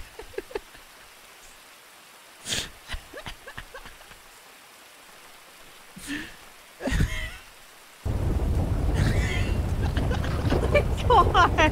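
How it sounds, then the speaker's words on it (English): Rain and a thunderstorm in a video game, with rumbling bursts of thunder spread over the first half before a loud, steady downpour sets in. A voice speaks briefly near the end. "And now it's raining."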